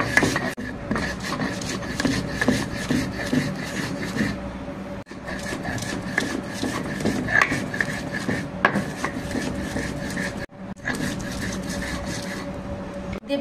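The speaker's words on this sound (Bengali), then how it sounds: "এখানে একসাথে বেটে নিব।" Green chili, salt and washed mustard seeds ground together on a stone, heard as close, repeated scraping and rubbing strokes that run steadily with two short pauses.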